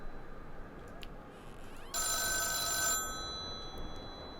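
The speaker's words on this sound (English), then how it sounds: "there'd be a ringing fucking telephone I can't pick up" In the video game The Town of Light, a telephone rings once with a bright, electronic-sounding ring lasting about a second, following faint scattered clicks in a quiet room.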